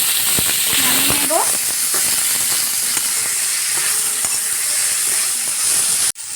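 Malabar spinach (puishak) is tipped into a hot frying pan for Bangladeshi-style vaji, raising a loud, continuous hiss of sizzling oil with scattered clinks and stirring, until it cuts off abruptly near the end.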